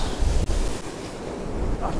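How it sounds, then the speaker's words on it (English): Sea surf breaking around an angler wading about twenty yards out while beach fishing for cod, a steady loud wash with wind buffeting the microphone and a sharp thump as a wave hits. "Oh, I've just took a wave to the crotch."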